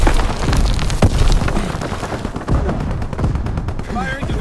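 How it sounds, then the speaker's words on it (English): Division artillery booms and rumbles in Call of Duty: WWII, a loud barrage of heavy blasts with crackling gunfire over a constant battlefield din, including one sharp shot near the start. "Firing division artillery."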